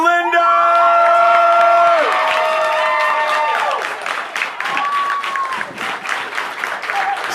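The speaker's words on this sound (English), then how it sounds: "Let's have a big round of applause for Emily Linder!" A large audience at a singing competition final cheers, whoops and applauds loudly for the winner, the roar strongest at the start and settling into steady clapping with scattered shouts.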